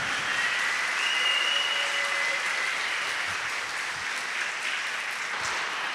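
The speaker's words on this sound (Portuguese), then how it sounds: "Então brada uma salva de palmas para Ele." A church congregation claps steadily and loudly for several seconds during Sunday Mass, a dense continuous wash of applause with no voices on top.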